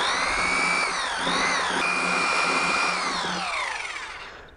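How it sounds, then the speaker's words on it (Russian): A power drill with a 121 mm metal hole saw whines steadily at high pitch cutting into a drainage pipe, dipping briefly under load, then spins down as the cut finishes. "121 миллиметр коронка по металлу. Она сверлится элементарно и просто."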